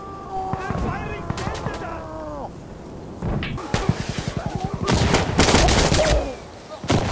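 Gunfire rings out in loud, rapid bursts, including a fast rattling volley and several sharp cracks close by, while voices shout over the shooting.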